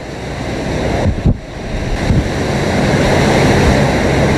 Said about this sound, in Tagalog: Nang misulang umikot ang hangin na sinabayan pa ng malakas na agos ng tubig.